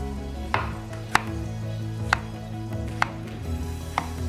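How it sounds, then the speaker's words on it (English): A knife chopping tomatoes into thin slices on a cutting board, five distinct sharp knocks spaced roughly a second apart, close and clear over a steady low background hum. "Chop down your tomatoes. Just take off the ends and just do nice thin slices."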